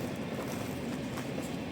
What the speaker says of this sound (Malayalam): metro train